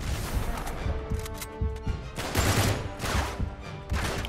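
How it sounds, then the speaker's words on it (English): Sustained suppressive gunfire in Uncharted 3, a steady fusillade of overlapping rifle shots with scattered impacts and booms, loud and continuous throughout. "Suppressive fire."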